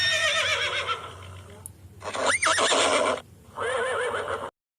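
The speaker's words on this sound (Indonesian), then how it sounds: "Kuda itu tertawa terbahak-bahak melihat domba-domba itu pontang-panting berlari." A horse neighs and whinnies loudly in several long, wavering calls as part of a storybook sound effect, with a faint clip-clop of hooves underneath.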